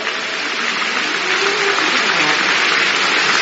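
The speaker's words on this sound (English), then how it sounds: "Make sure when you clap," A large church congregation at a Holy Communion service claps in a dense, sustained wash that swells slightly, and a faint voice can be heard underneath.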